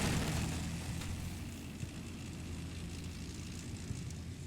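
A hostile BMP infantry fighting vehicle in the war game Combat Mission runs its engine nearby, giving a steady, dense low rumble with a broad hiss above it and no voices.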